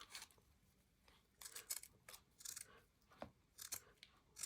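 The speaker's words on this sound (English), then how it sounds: "Just cut off these glue bits." Scissors snip off leftover glue bits from a paper snippet in a craft room, a series of crisp, close cuts in irregular rhythm, some spaced apart and a few in quick pairs, with no talking.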